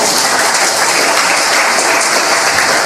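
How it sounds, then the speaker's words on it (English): Audience applause at a PyCon UK 2014 conference talk, a dense, loud, continuous wash of clapping filling the whole stretch with no voices over it. "Can we get a round of applause for that"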